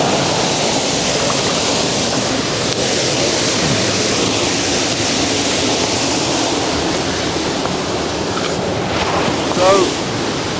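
A waterfall and its cascades in a mossy, rocky stream roar as a steady, broad rush of water, loud and unbroken throughout, with faint wind and brief voice-like sounds barely audible under the noise.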